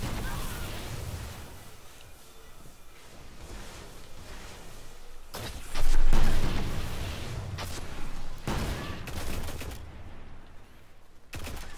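Sustained machine gun fire in the video game Destiny, with a dense, noisy rattle of shots throughout, several louder bursts and a sharp impact around the middle, under a busy mix of combat sound.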